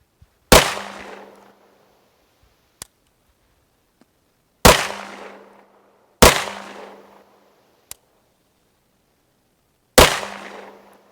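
Four loud, sharp pistol gunshots fired with Winchester Silvertip ammunition, spaced a few seconds apart, each with a brief ringing decay, and faint metallic clicks in between. The slide sometimes fails to return to battery.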